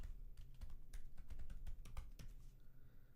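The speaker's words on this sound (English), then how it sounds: "Now deliberately I'm going to write some buggy code." Someone typing code on a computer keyboard, a quick irregular patter of close, crisp keystrokes with brief pauses, fairly quiet and with no voice.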